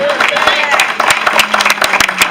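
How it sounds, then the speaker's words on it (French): Applause from a church congregation, scattered claps rising in a brief burst with voices and talk mixed in throughout. "Un applaudissement pour la gloire de Dieu."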